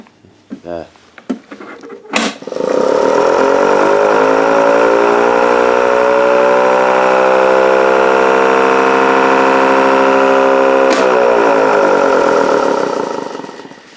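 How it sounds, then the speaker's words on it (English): After a few clicks and clunks, a 1986 Federal Signal Canadian Model 2 electric civil defense siren, running on batteries, winds up and holds a loud, steady, rising wail before cutting off abruptly. "this siren doesn't normally run on batteries, but it's able to"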